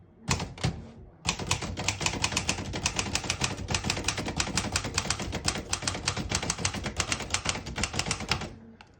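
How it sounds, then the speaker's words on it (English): A 1924 Remington Portable typewriter typing a sentence: loud, close, rapid metallic key strikes in a dense, steady stream, after a few opening clacks and a short pause. "I'm just going to type a sentence."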